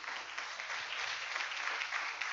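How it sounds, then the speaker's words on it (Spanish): A church congregation applauds during a sermon, clapping in praise to God. The applause is a steady, soft wash of many hands, continuous and somewhat distant for a couple of seconds. "Un aplauso al Señor que nos da sus dones."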